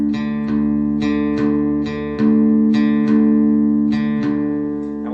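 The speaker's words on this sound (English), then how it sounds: "it's always going to be a low sounding D versus a middle D, but the note should sound the same" Guitar strings in drop D tuning ring out, a low D and a middle D an octave apart, sounding as sustained plucked notes struck several times in alternation, close and clear with no talking.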